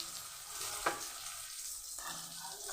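Pieces of pointed gourd (potol) fry in hot oil, giving a faint, steady sizzle with a couple of brief clinks from the pan.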